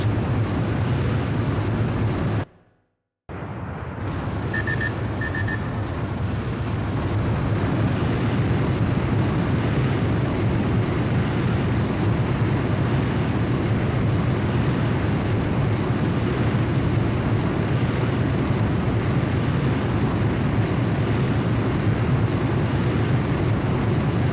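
A jet aircraft on landing approach in the PSP game Ace Combat: Joint Assault, a loud, steady engine roar that drops out for a moment near the start, with brief electronic beeps just after it returns.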